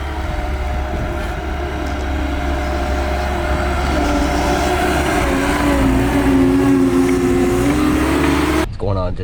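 A skid steer engine drones steadily while working in a snowstorm at a septic system installation, heard under talk before it cuts off abruptly at the end.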